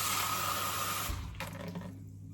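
Water is poured into a blender holding broccoli florets, a close, steady rushing stream that stops abruptly partway through and leaves a faint low hum.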